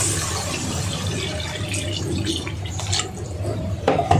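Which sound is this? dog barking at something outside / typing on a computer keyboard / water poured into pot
water poured into pot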